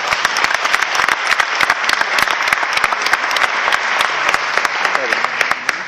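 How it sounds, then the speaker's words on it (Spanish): A seminar audience at a Spanish-language business-plan talk gives strong applause, many hands clapping densely and loudly for several seconds with sharp individual claps standing out and a few voices underneath. "Yo quiero un fuerte aplauso para ustedes."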